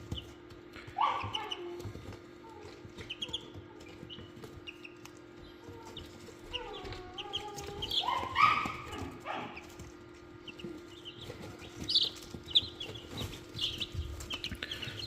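Young naked neck chicks, yellow and black, cluck and cheep in soft, scattered bursts at close range over a steady low hum, with louder clusters of calls coming in the middle and toward the end.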